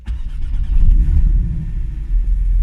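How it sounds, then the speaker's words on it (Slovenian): A Porsche 718 Cayman S engine revs up close and loud, its raspy, deep rumble rising and holding briefly before dipping and climbing again, with no voices over it. "Je pa res, da so se pri Porscheju fejst potrudili z zvokom, kljub temu, da je motor manjši."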